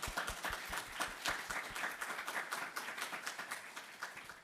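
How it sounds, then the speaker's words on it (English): Conference audience applauding partners, a steady wash of many hands clapping with distinct sharp claps standing out, moderately distant and continuing evenly throughout. "first we can applaud our great partners"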